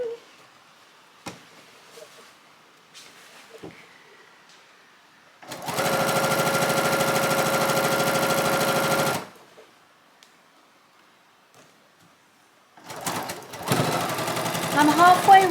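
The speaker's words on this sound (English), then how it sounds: "Time for a bit of fast sewing." A sewing machine runs fast on a quilt topper, with one long loud steady burst of rapid stitching, quiet gaps, then another burst starting near the end.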